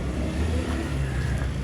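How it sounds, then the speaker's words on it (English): Cars pull out of a side road onto a town street, a broad continuous engine and tyre roar that fills the whole moment, fairly close and loud with no talking. "Cars coming out of Jenner Hill"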